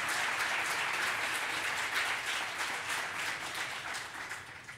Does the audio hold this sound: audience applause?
yes